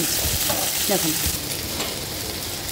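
Onion, green chili and capsicum fry in a pan with a continuous close sizzle and stirring scrapes, and a short voice sound appears briefly early on.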